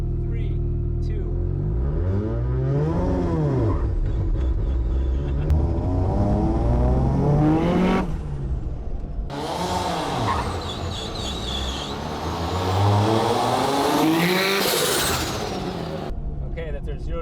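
A car with a three-rotor engine accelerates from a standstill to 30 mph, its engine rising in pitch through several gear changes with brief dips between, loud and on board, with people talking over it.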